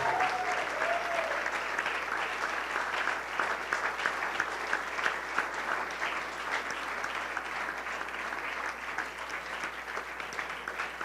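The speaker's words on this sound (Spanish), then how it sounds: "¿Cuánto le pueden dar un fuerte aplauso a Dios hasta ahora?" A church congregation applauds steadily for about eleven seconds, a dense, sustained wash of clapping heard from within the room, with a brief voice near the start.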